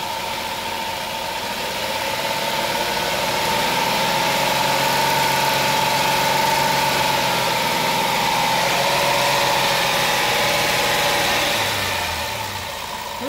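A 2007 Chrysler Town and Country minivan engine with sputtering on acceleration runs at a steady 2500 RPM, a constant mid-pitched hum with a faint whine, holding evenly throughout with no talking.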